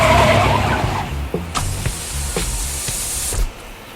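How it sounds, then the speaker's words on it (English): Radio sound effect of a car skidding at about 40 miles an hour and striking a child: a loud, hissing tyre skid fades into a series of sharp thuds and knocks, with a final hiss cutting off. "This is the sound of a child being hit by a car at 40 miles an hour."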